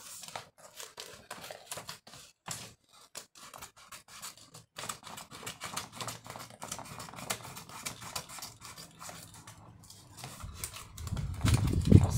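Scissors cutting through paper make short, crisp snips and rustles in an uneven rhythm, close and fairly quiet. Handling noise builds louder near the end.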